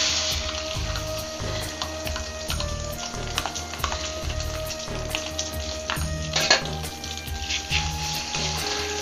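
An egg fries in a little mustard oil in a pan, giving a constant soft sizzle broken by light scraping and stirring taps as it is broken up, with a low steady hum in the background and no voices.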